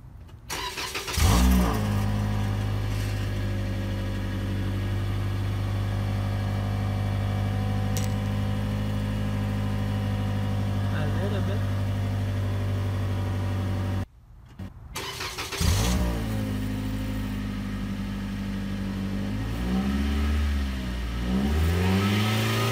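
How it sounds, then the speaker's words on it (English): A car engine fitted with a turbo blow-off simulator exhaust cranks and settles into a steady idle, then shuts off. It restarts and revs up and down several times, loud and close, with no talk. "So let me start the engine and see."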